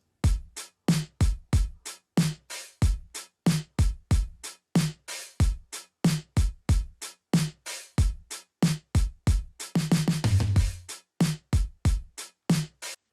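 A steady, punchy electronic drum pattern plays on its own, dense rhythmic hits with a quick roll-like flurry near the end before the beat resumes.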